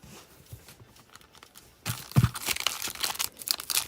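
Pokémon card booster packs torn open by hand, quiet handling at first, then a burst of loud, close crinkling and ripping foil wrappers.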